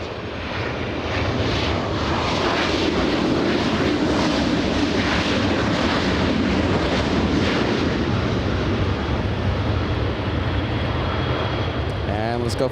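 A passenger jet flying in from San Francisco at LAX, a broad steady engine roar sustained for the whole stretch, loud and near, with wind noise and an occasional voice underneath.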